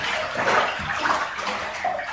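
A three-year-old girl splashes water in a bathtub at home, making steady close sloshing and splashing with no talking.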